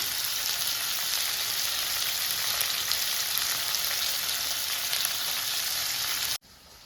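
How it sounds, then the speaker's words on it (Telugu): Peanuts roasting in a pan for Andhra-style peanut roti chutney give off a steady, dense sizzle and crackle, close and even throughout, ending abruptly near the finish with no voices. "కొద్దిసేపు వేగాలి."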